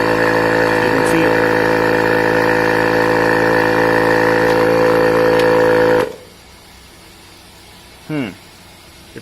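A Bergmann Typhoon analog tyre inflator pumps air into a car tyre with a loud, steady motorized drone and pulsing hum that cuts off abruptly, followed by quiet and a short hiss or rattle.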